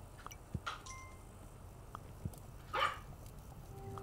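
Small puppy in the medieval strategy game Kingdom giving a few short, sharp yips and barks at scattered moments over a quiet game background, fairly faint and with no one talking.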